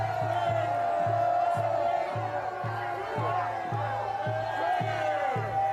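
A protest crowd shouts and chants in a rhythmic, repeated pattern of many voices, with a steady pulsing beat running beneath the noise throughout.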